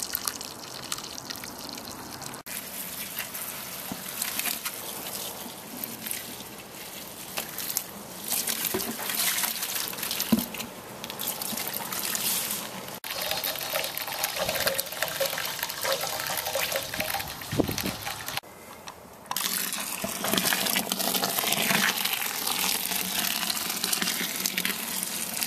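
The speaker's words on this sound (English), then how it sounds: "There's the first runnings, really pale and actually coming out really clear, even without any recirculating yet." Wort first runnings drain from a cooler mash tun during a home brew day, a steady close rush and splash of liquid running continuously with brief dips in flow.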